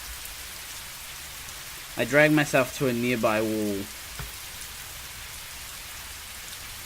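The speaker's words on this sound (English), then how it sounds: "Nothing remained but the sound of rain." Rain falls as a soft, even hiss in the background while someone speaks a line over it.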